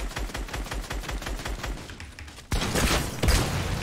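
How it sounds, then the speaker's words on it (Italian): Gunfire in Fortnite: a rapid, evenly spaced burst of shots rattles for about two seconds, then a louder, denser blast of noise takes over, with no talking. "Si stanno ancora sparando."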